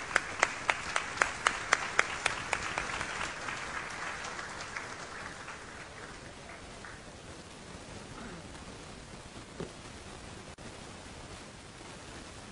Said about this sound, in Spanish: le damos un aplauso a Alberto